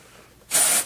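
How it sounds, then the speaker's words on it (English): An aerosol can of dry shampoo sprays into sections of hair in one short, close, steady burst of bright hiss lasting under half a second, after a quiet start. "I'll go in and spray sections. I like the aerosol sprays."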